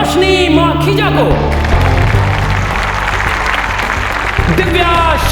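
Applause from a crowd welcomes a Miss Bhavani Nagar beauty contestant, steady and dense for several seconds with music and voices layered over it.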